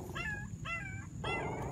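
A rescued puppy, found buried alive, whimpers in three short, high, wavering cries, fairly close, over a low background rumble.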